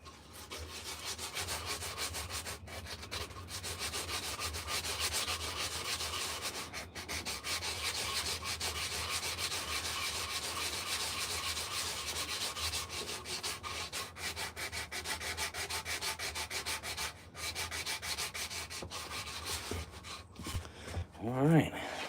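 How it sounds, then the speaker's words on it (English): Steady abrasive rubbing of sandpaper on a hand-carved wooden spoon clamped in a workshop, a continuous close scratchy hiss running throughout with brief pauses, ending in a few quick strokes. "Work on some sanding right in there."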